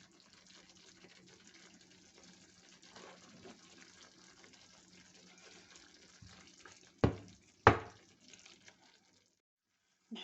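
Water poured into a pan of rice with liver, onion and sauce, a faint steady trickle and low gurgle, close by and quiet, broken near the end by two sharp knocks before falling silent.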